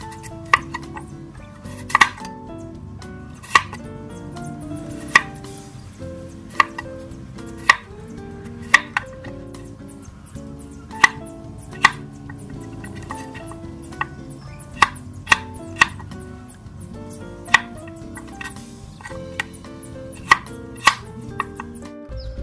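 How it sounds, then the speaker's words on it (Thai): Vegetables, including potatoes cut into cubes, are chopped on a cutting board with sharp, fairly regular knife strikes over about twenty seconds, close and moderately loud with faint kitchen clinks between. "อันดับแรกเราก็จะมาเตรียมหั่นผักกันก่อนนะคะ"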